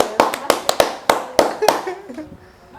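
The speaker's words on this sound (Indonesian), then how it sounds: "Tepuk tangan buat Ajijah girl hari ini." Several people clap for the camera girl during an Indonesian talk show, with a handful of sharp, separate hand claps that are fairly close and loud and then thin out toward the end.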